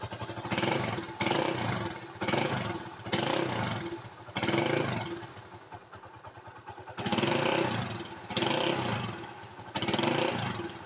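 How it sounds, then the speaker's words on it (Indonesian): A Honda Win 100 motorcycle engine revs repeatedly, rising and falling in bursts, with a rattly, tinny tone close by. "Jadi kali ini aku mau dengerin suara daripada motor Win 100 ini."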